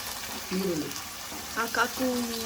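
Mint leaves and onion frying in a pan as a home-cooked dish gets started, a continuous soft sizzle running under someone speaking intermittently.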